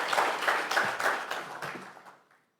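Light, scattered clapping from a conference audience at a TVET event, greeting a speaker walking to the podium, fairly faint and fading out after about two seconds.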